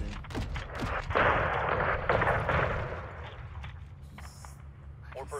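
Heavy 40mm cannon rounds from an AC-130 gunship in Modern Warfare 2 thump out as repeated booming shots over a continuous rumble, with radio voices talking over them.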